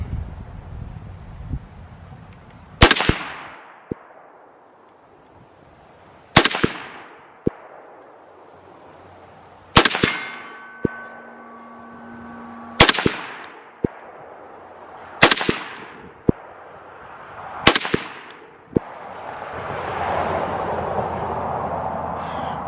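Six loud, sharp rifle shots are fired at a steel plate 100 yards away, spaced a few seconds apart, with quiet pauses between and faint wind noise near the end.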